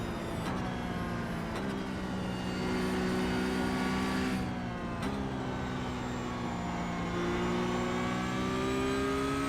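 Porsche Cup race car engine in iRacing on the Nordschleife, a loud sustained high-revving tone with sharp drops at gear shifts, then climbing pitch again down the straight, no talk.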